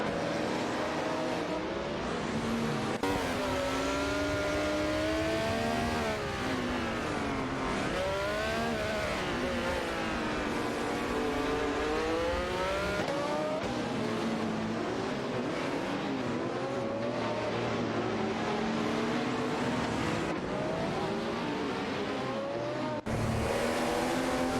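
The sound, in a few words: race cars driving in an AI racing video game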